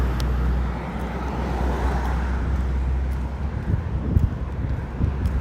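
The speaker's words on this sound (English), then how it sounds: "Holy loud car." Loud car passing by outdoors, a steady heavy low engine and road rumble with wind noise on the microphone, building slightly toward the end, no speech.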